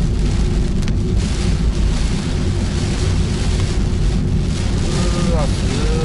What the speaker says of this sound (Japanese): すげえ雨降ってきたよ。